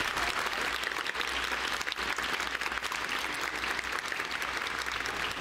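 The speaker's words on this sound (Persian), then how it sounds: "تشویقشون" Sustained applause from a studio audience at a televised pantomime game show, steady and dense throughout with no clear talk over it.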